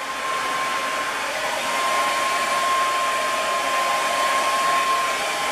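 A Hair Flair Softhood hooded hair dryer set to its lowest heat blows with a steady, even hiss and a faint constant whine, running alone at close range without any voices.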